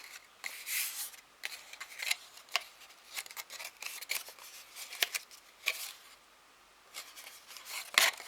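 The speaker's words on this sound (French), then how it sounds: "Je vais carrément couper le petit carré." Scissors snipping a small square of paper, a run of quick dry crisp cuts and rustles at close range, irregular in rhythm, with no voice.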